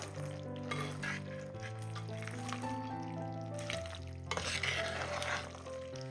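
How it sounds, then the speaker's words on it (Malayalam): Fried papadam is stirred in a hot pan, giving a soft sizzle with light scraping and rustling under background music, quiet and close. "ഇനി ഒന്ന് ഇളക്കി കൊടുക്കുക."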